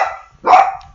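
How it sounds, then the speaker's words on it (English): A dog barks twice, loud and close by, a short yip followed by a fuller bark, with quiet gaps around them. "hey, that's my dog."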